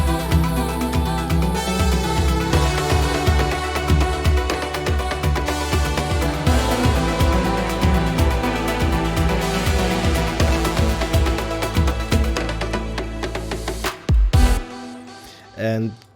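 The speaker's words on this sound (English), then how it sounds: "I added these drums to really feel the listener something is coming and something is like hyping the track" Afro House drum pattern building through a bridge section, dense percussive hits layered with a synth and bass in a loud, steady groove that drops out near the end with a few final hits.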